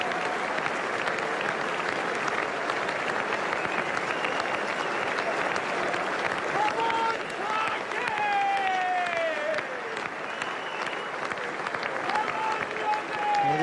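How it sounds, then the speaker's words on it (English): Cricket crowd at Adelaide Oval applauding Ricky Ponting as he walks off after being caught for 142 in the 2006–07 Ashes Test: sustained broad applause from a large stadium crowd, with a commentator's voice rising over it later. "the applause for Ponting as he makes his way off"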